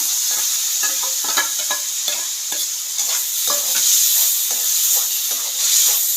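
Onion, ginger and garlic masala paste sizzles and hisses in a hot pan for a mutton-flavoured sundal curry, with steady frying crackle and repeated stirring scrapes, close and loud, no voices.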